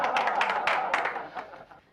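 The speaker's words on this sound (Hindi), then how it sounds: "तालियां बजाओ।" A short burst of group clapping in a comedy scene, a quick patter of hand claps that fades away within about two seconds.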